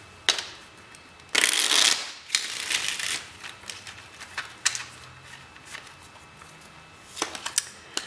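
Tarot cards riffled and shuffled up close, a loud burst of fluttering followed by scattered softer shuffles and taps.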